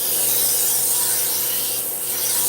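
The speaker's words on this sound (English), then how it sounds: "While I'm sharpening, I'm also making sure that it's straight and flat" A kitchen knife for cutting-board use is sharpened in a custom cutlery workshop, giving a steady, loud, continuous rasping and grinding scrape with no break.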